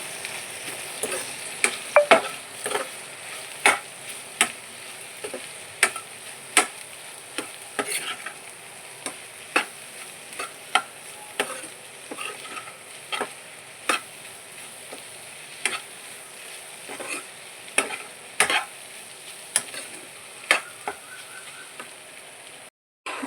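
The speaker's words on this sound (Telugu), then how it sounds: "అన్నిటిని కూడా చక్కగా మిక్స్ చేసుకోవాలి" Egg curry masala is stirred and fried in a pan: repeated sharp scraping strokes of a spoon against the pan over a soft, steady sizzle, fairly quiet and with no talking.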